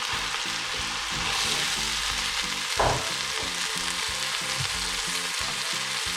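Soaked, drained rice with powdered cardamom and mace is stirred into a hot pan for pilau rice, giving a steady close sizzle with rhythmic scraping strokes and one louder clatter midway.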